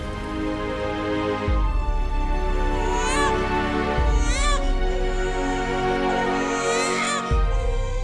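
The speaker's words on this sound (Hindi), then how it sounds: "बच्चे के रोने की आवाज कहाँ से आ रही है?" An abandoned infant left in a basket cries in several short, rising wails spaced a few seconds apart, over a steady low droning background.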